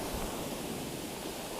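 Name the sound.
ocean waves on a winter beach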